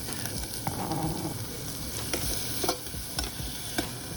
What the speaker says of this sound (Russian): Возьмите 2 зубчика чеснока и нарежьте их слайсами, обжарьте в сотейнику.